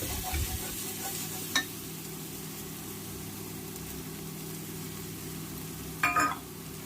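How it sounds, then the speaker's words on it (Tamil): Ground chili paste fries and is stirred in a pan while mutton biryani is cooked Ambur style, a quiet steady sizzle with two brief sharp scrapes of the spoon. "அடுத்தது மிளகாவை அரைச்சி வச்சோம்ல பேஸ்ட்டு, அதை போடுவோம்"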